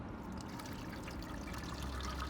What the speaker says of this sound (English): And then we also wanna get the stock strained off.